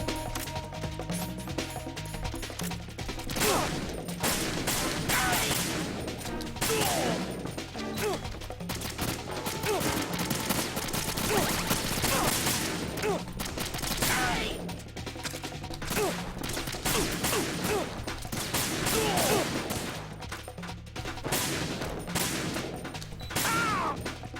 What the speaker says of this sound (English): Can those guys stop shooting at me?